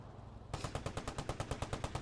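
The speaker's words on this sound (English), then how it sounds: "They must have known and heard the gunshot." Rapid automatic gunfire in the World War II shooter game Post Scriptum, starting abruptly after a short lull and continuing as a steady burst of sharp, evenly spaced shots, loud and close, with no talk.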